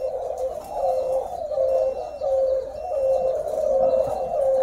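A flock of caged doves cooing steadily, low rolling calls overlapping in a continuous near chorus with faint higher chirps above.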